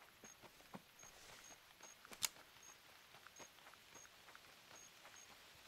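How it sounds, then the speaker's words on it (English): Light rain patters steadily in the hunting game theHunter Classic at Piccabeen Bay, soft scattered drops with an occasional sharper tick, faint and continuous without talk. "And it's starting to rain now."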